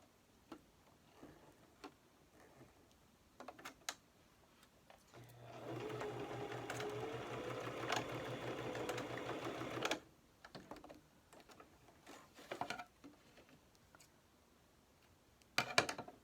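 Close up, a sewing machine runs in one steady burst of about five seconds while stitching a fabric mask, framed by scattered quiet clicks and handling noises before and after.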